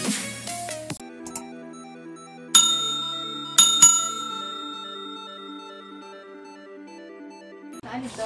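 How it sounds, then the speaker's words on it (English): A notification bell sound effect gives a few bright, sharp dings, each ringing out into a long shimmering decay, with clustered chime tones around them. "click the notification bell"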